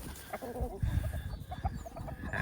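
Roosters and chickens of a backyard flock cluck and mutter close by in a short, busy stretch of overlapping calls.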